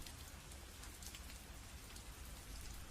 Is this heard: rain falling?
yes